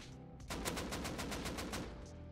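An AK rifle in Rust fires a sustained full-auto spray, roughly a dozen rapid evenly spaced shots after a brief quiet start, loud and close with no talking.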